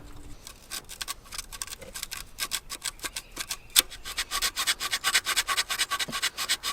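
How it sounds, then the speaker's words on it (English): Sandpaper scrubbing crusty ignition points on an abandoned Mopar, a close run of quick rasping strokes that grows faster and more regular toward the end. "Get some sandpaper and get those cleaned up."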